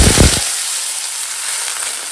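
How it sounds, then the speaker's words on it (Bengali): Green chillies dropped into hot oil give a loud, steady sizzle with a burst of crackling spatter at the start, settling into a continuous hiss. "তেল গরম হয়ে গেছে কাঁচা লঙ্কা দিয়ে দিলাম"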